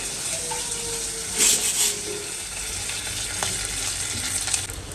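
Green chillies and curry leaves hit hot tempering oil for Gujarati kadhi, giving a steady, close sizzle and fry that swells in brief bursts as they are stirred, with no voices over it.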